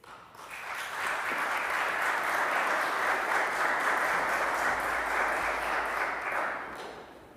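Church audience at First Baptist Church Bristol applauding to welcome a speaker, clapping swelling up quickly, holding steady for several seconds, then tapering off at the end.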